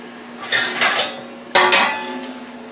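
Metal baking pan rattling and clanking in a home kitchen, two clusters of bright clattering hits about a second apart, close and fairly loud, with no talking.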